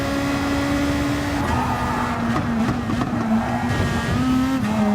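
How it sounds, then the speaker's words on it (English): Race car in a racing video game, engine droning steadily before dropping down three gears in quick succession on a sequential gearbox, each shift a stepped change in pitch, loud and continuous without speech. "Fast down the gears there, I love that noise when you do that. Down 3 gears, boom boom boom."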